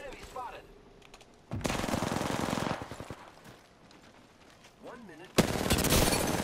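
Gunfire in the video game PUBG, with two loud bursts of rapid automatic shots separated by quieter stretches and short background noises.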